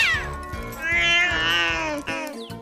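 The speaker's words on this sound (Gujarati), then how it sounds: "હવે શું મ્યાઉ મ્યાઉ કરી રહી છે?" A cat meowing loudly and insistently close by, one long drawn-out wailing cry with a shorter call at the end.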